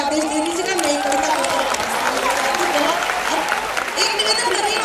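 A crowd claps loudly and continuously in a pandal at a kavi sammelan poetry recital, with voices and chatter mixed through the steady applause.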